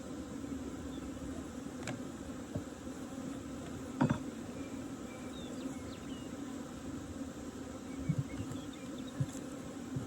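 Loose honeybees from a shipped package swarm with a continuous, even buzzing drone, fairly faint and close, broken by a few small clicks and taps.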